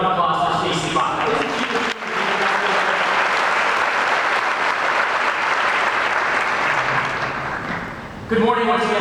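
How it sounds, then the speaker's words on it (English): A sustained wave of audience applause at a business expo, filling the room for several seconds after a speaker's brief words, then fading as talking resumes. "How about another round of applause for Stacey Bach?"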